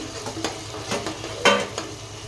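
Masala for kaju paneer masala fries in a pan, with a soft, steady sizzle under four or five distinct scrapes of a spoon stirring against the pan, the sharpest near the middle, and no talk.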